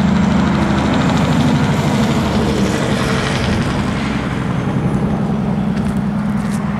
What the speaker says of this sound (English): Don't mind the truck behind me.